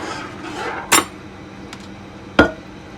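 Broccoli and white cheddar mac and cheese is poured from a pot into a pan, with two sharp metallic clinks of a utensil against cookware over a soft, quiet background and no talking.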